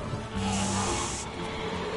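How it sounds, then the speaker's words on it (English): A first aid spray used in Resident Evil 6 gives a steady aerosol hiss lasting under a second, followed by a soft game chime amid background game sounds. "Right, I'm gonna have to use my first aid spray."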